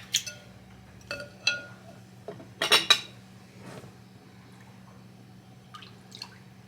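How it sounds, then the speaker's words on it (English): Spoon or whisk clinking and scraping in a container while stirring honey into elderberry juice, scattered light taps and small liquid sloshes, close and fairly quiet over a steady low hum. "It takes just a little bit of stirring to get it all to dissolve in there."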